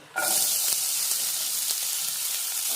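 A sudden loud, steady sizzle as onions hit hot oil, hissing continuously and close up with faint crackles throughout.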